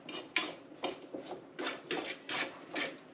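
Turnips being stirred with oil and seasonings, a steady series of scraping, rubbing strokes of utensil against bowl, close and clear with no talk.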